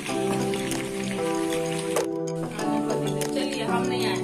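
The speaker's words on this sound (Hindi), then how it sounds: "देखिए थोड़ा सॉफ्ट फ्राई होगा।" Chicken frying in gravy in a pan, giving a soft, steady sizzle that runs throughout beneath a voice and background music.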